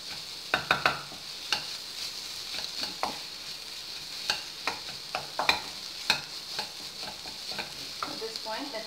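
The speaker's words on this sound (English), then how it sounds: "Now I'll add water which is boiling." Paneer masala gravy sizzling in a pan, with frequent sharp clinks and scrapes of stirring over a constant hiss of frying, close and fairly quiet.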